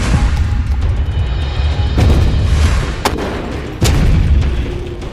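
A Hamas al-Qassam fighter in a ruined building in Rafah opens fire on Israeli soldiers. Several loud, sharp gunshots crack out at intervals, each with a short echo, over a steady background rumble.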